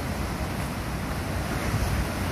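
Surging waves of churning water roar steadily and loudly with gusty wind buffeting the microphone outdoors in fog, no voices over it.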